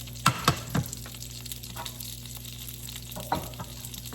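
A generous pat of butter sizzles softly and steadily in an 8-inch non-stick pan on an electric stove at medium heat, with a few light clinks near the start and one more later.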